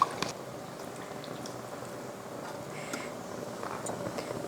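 A pot of idli kulambu curry simmers and bubbles softly, a low steady burble of liquid with faint pops, heard close and without talking.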